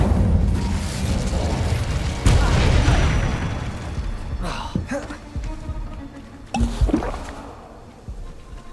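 Incendio fire spells cast in Hogwarts Legacy: loud, dense whooshing blasts with booming low rumbles, one swelling burst early on and another sharp burst later, set over continuous game soundscape.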